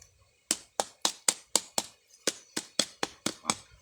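Sharp knuckle knocks on a ripe durian fruit, about a dozen crisp hollow taps in an uneven rhythm, close and clear with no talking.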